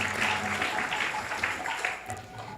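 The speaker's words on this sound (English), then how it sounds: "you can just give a round of applause" An audience at a Krishna Katha gathering at ISKCON of Silicon Valley gives a round of applause, steady clapping that slowly fades toward the end.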